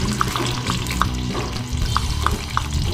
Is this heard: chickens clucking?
no